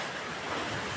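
Ocean waves washing onto a beach shore, a dense continuous roar of surf with wind buffeting the microphone, close and loud, no voices.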